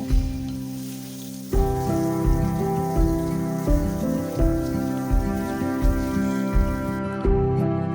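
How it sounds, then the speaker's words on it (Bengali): Eggplant frying in hot oil in a pan, after fish has been fried for a Bengali pabda fish curry: a sudden loud, steady sizzle with crackling pops that continues to the end, close up. "এবার দেখো, তেলেতে আমি বেগুনটা দিয়ে খুব ভালোভাবে ভেজে নেব।"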